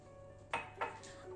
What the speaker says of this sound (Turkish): Öncelikle bir su bardağı toz şekeri tencereme alıyorum